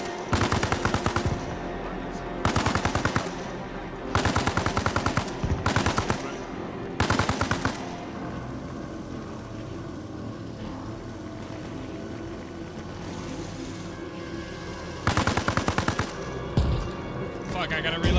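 A PKM machine gun in Arma fires loud, close, sustained bursts, about half a dozen rattling volleys separated by pauses, with a quieter stretch of ambient noise in the middle.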